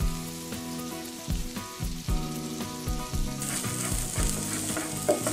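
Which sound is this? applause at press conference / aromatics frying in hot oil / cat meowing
aromatics frying in hot oil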